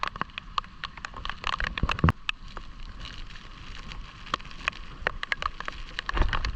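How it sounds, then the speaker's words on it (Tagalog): Steady heavy rain patters over a wash of broadband noise, with scattered sharp drops and taps striking nearby throughout, sheltering by a rock while fishing at Jomalig, Quezon. "Grabe ang ulan guys."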